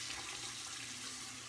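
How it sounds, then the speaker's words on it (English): Tap water running steadily to rinse a straight razor blade, a continuous close splashing hiss with no voices. "sorry about the water there, I had to rinse the blade off."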